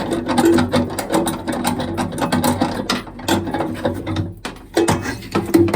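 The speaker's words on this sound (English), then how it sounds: "So just one more nut off the top." A ratchet removes a nut from a Webasto Thermotop C heater being repaired, giving continuous close clicking with brief pauses and a rhythmic, uneven pace throughout.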